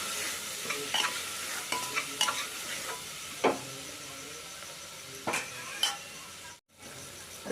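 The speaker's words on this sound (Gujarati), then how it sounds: "થોડીક વાર મસાલાને ચડવા દઈશું એટલે સરસ મિક્સ થઈ જાય" Spice masala with salt cooks in a pan for Kathiyawadi vaghareli khichdi, a soft steady sizzle under sporadic spoon scrapes and taps against the pan, with a brief drop to near silence late on.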